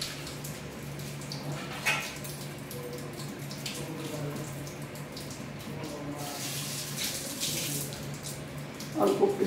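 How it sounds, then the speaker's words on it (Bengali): A little water poured into a Bengali chitol fish curry in a home kitchen, a soft, steady trickle and splash running quietly throughout with faint background noise. "অল্প একটু জল দিলাম"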